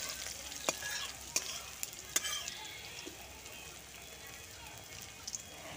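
Mustard seeds, chopped green chillies and salt frying in a wok, with a low steady sizzle and a few sharp spoon clicks against the pan as they are stirred.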